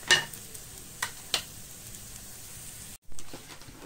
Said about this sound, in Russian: Пусть так жарится пока.